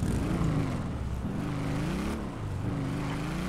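A small motorbike in GTA 5 hums with a steady engine drone whose pitch rises and falls in waves as it is revved, loud and continuous through the whole stretch, with no talking over it.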